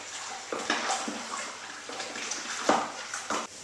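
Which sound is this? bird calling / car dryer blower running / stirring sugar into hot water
stirring sugar into hot water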